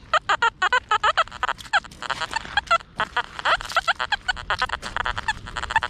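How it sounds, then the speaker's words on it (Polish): Several ducks quack in rapid, repeated bursts, loud and close, with overlapping calls throughout, beside the River Thames. "Kaczki słuchają razem ze mną."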